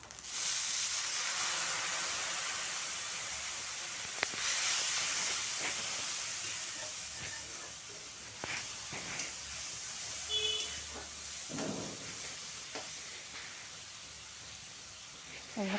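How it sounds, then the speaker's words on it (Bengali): Water poured into dry spices frying in a pan for a rui fish curry, a loud steady sizzling hiss that starts at once and slowly settles over several seconds, with faint clinks. "এবার একটুখানি জল দিব, কারণ শুকনো মশলা তো জ্বলে যেতে পারে"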